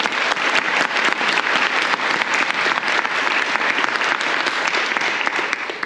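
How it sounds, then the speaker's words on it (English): An audience breaks into a loud, dense round of applause, many hands clapping continuously and close for several seconds, with faint crowd murmur beneath. "little round of applause"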